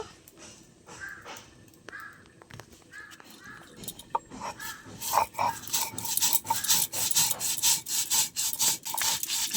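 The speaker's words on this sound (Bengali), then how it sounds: "জল দিয়ে পোস্তটা ভালো করে মিহি করে বেটে নেবো" Poppy seeds ground with water on a stone slab, starting with a few scattered scrapes and settling into a close, loud, rhythmic back-and-forth grinding of stone on stone, with no talking.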